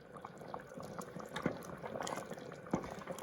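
Chicken cacciatore simmers in a pot with a steady low bubbling and crackle, a couple of slightly louder pops rising over the continuous soft boil, fairly close and quiet, with no talking.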